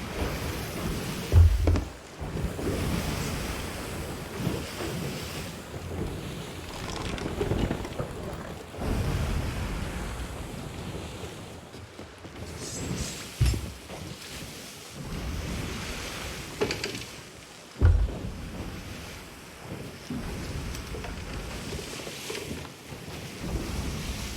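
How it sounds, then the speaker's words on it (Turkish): Wind and ocean waves at sea in the pirate sailing game Sea of Thieves: a steady, loud rush of wind over rolling surf, with heavier gusts and swells surging every few seconds and no voices. "Uf çok rüzgar şey rüzgar diyorum ya."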